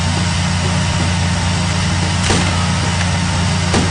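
A car engine roars steadily during a chase in the video game Sam & Max, loud and close with a constant mid-pitched drone, broken by a couple of brief sharp noises.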